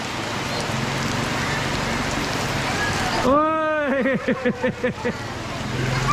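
Steady rain falls on a surface outdoors, a dense continuous patter running throughout, with voices and a bright harmonic cry partway through and a few brief voiced bursts near the end.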